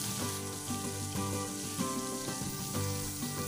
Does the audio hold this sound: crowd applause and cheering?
no